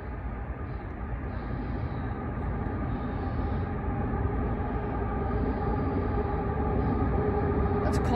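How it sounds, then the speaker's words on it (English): A CSX coal train rolls steadily across the Harpers Ferry bridge, a continuous loud rumble of wheels and cars that holds level from start to finish with no voices over it. "That's a coal train."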